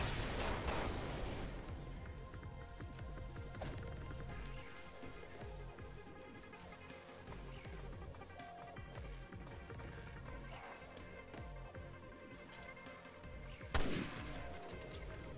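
Gunfire in Resident Evil Revelations 2 crackles in dense, rapid bursts at the start, then gives way to scattered softer shots and a single sharp report near the end.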